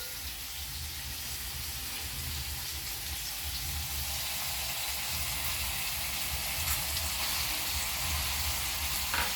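Vegetables for a mixed vegetable dish fry lightly in a pan with a steady, dense sizzle that holds at an even level throughout, close up and with no talking.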